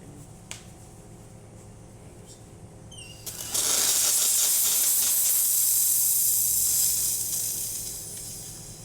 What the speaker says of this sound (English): So yeah, we have good steam.